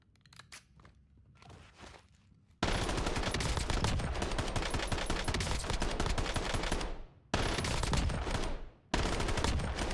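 An automatic gun in a video game fires at a variable rate, a dense stream of loud, close gunshots that sounds continuous. A few quieter shots come before it, and two brief pauses break the burst.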